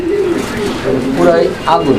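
Racing pigeons coo in low, throaty murmurs close by, with someone talking over them.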